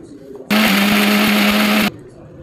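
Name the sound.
mixer grinder grinding spices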